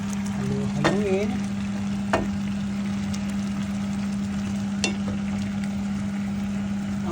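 Fried eggplant being stirred in a pan, with a faint steady sizzle under a constant low hum and a few soft utensil scrapes and clicks, with a brief voice near the start.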